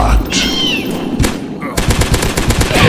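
Rapid gunfire in a dinosaur hunter video game, loud and close, with a few scattered shots and then a fast steady burst of automatic fire through the final second, over continuous game background sound.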